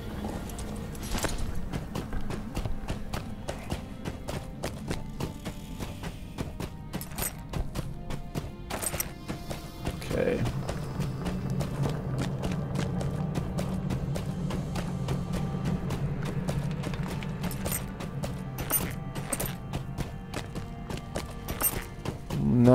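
Hooves clop steadily as a goat mount trots through the Moria halls in Lord of the Rings Online, with occasional thuds over a continuous game ambience.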